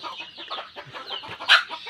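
Hens cluck and one-month-old chicks peep in a busy cluster of short calls, ending in one louder, sharper squawk.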